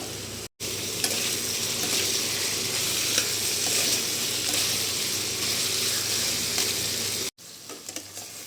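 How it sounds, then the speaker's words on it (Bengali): Kohlrabi and potato chunks frying in a pan give a steady, loud sizzle with scraping stirs throughout, broken by brief cuts near the start and end. "এবার এটাকে পুরো আমি ভাজা ভাজা করে নেব"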